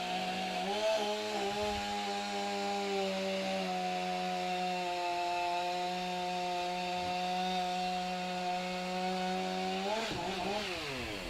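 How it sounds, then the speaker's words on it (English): A STIHL chainsaw fitted with a new saw chain cuts through a wood block at a timbersports championship, roaring steadily and loud for the whole stretch, with the pitch dipping under load and rising again near the end. "that brand new saw chain from STIHL, made in its factory in Switzerland"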